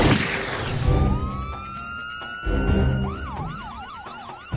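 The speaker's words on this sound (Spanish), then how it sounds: "Una ambulancia traslada de urgencia a Buchanan al hospital" A loud ambulance siren wails with rising and falling tones, then switches to a fast yelp pattern, close by over traffic rumble.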